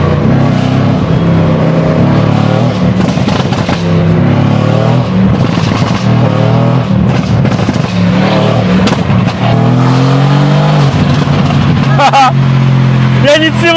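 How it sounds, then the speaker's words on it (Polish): A heavily modified 801 hp sleeper car accelerates hard through the gears, its engine roaring loud and close with rising revs and shift breaks, filling the whole stretch. "Dźwięk tego auta w połączeniu z moją nogą daje takie właśnie efekty."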